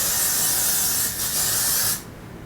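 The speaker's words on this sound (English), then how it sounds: "I like to take the Got To Be hairspray, and first of all I like to spray some over the top of this one" Got To Be hairspray sprays in a steady, close hiss onto a lace wig, with a brief dip in the middle and a sudden drop-off near the end, with no talking.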